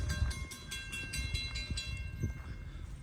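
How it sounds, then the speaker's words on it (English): A northbound CSX freight train rolls past a railroad crossing with a rumbling low roar and rhythmic wheel clacks. Faint, steady tones ring above the rumble, and no one speaks. "It'll be a northbound CSX. Here it comes."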